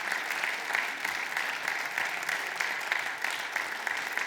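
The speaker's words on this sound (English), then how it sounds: "Let's have a big round of applause for Robert and Andrew Wise as they pick up their awards" Sustained applause fills a gala evening as award winners collect their honors, steady and dense clapping from a sizeable audience throughout.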